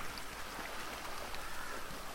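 Rain falls in the video game GTA 5 on PS4, a faint, steady hiss of rainfall and scattered drops that runs without pause and with no voices.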